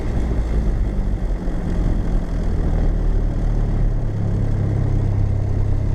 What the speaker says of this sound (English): what I just did there with revving up the engine is called the run-up